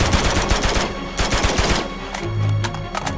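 Rapid automatic AK rifle fire in Uncharted 2: Among Thieves, loud and close, with dense bursts over the first two seconds, then a lower rumble and a few scattered shots.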